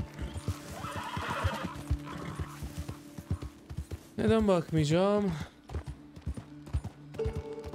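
A horse whinnies loudly in a long rising-and-falling call amid steady clip-clopping hooves and background music in Red Dead Redemption 2, with someone talking before and after.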